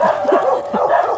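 An aggressive Belgian dog barks in a quick run of sharp, close yelping barks over about a second, loud and fairly continuous.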